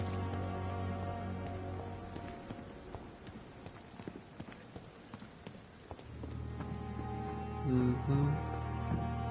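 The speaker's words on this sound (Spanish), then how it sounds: "Fuera con la lluvia y todo" Rain falls steadily outside in the game Vampyr, a constant wash of drops mixed with clip-clopping hooves and a low droning tone, with brief voice-like sounds near the end.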